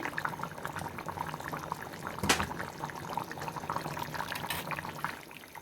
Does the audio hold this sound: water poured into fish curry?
yes